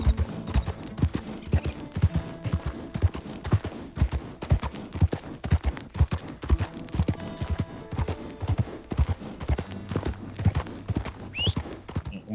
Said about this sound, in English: I'm already on the horse.